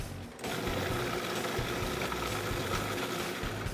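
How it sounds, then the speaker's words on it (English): A food processor with an S blade and a 1-horsepower motor runs close by, a steady, dense motor whir with a faint rhythmic churn that holds level after a quick start. "we're going to load it into the food processor with the S blade"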